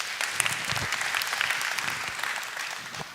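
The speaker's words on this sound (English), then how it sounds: "since you got applause, I'll sort of agree with you" Dense, continuous audience applause at moderate loudness, fairly close, with individual claps audible through the steady wash of sound.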